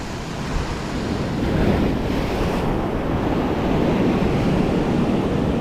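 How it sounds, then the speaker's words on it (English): Ocean swell surging and breaking on a UK beach during fishing for rays, a steady broad roar of surf with wind buffeting the microphone, loud and continuous with no talk. "Gonna have to time it with this swell"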